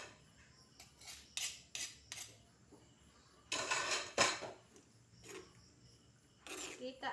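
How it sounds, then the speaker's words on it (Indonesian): A utensil stirs home-style food in a metal pan with freshly squeezed lime juice added, giving irregular clinks and scraping clatters in short bursts, close and fairly quiet, with gaps between strokes. "Kita aduk rata."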